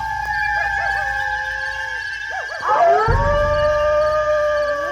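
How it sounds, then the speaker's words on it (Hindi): A jackal howls at night with long, wavering, rising and falling cries that carry over a still, quiet background, followed by a sudden low rumbling swell partway through. "अचानक एक सियार चिल्लाने लगता है।"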